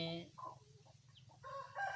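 A Burmese-Thai crossbreed chicken, Burmese sire and Thai hen, clucks in short calls heard close at moderate volume, with faint farmyard sounds behind.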